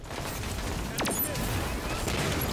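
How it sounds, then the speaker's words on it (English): Video game Halo battle: a burst of gunfire and a sharp mechanical crack stand out near the middle over a dense, noisy backdrop of combat din. "All these grenades."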